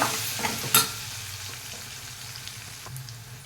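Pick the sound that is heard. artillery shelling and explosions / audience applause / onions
onions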